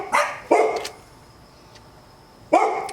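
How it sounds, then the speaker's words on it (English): Pet dogs in a home bark three times: two sharp, close barks in quick succession, a pause, then a third bark, loud and alone. "And our doggies that are barking."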